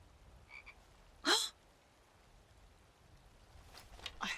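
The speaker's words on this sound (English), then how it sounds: "I heard a frog, and I put frog mods on this." A frog croaks in Skyrim Special Edition, a few brief calls standing out from a quiet ambient background, with one louder croak early and fainter ones later.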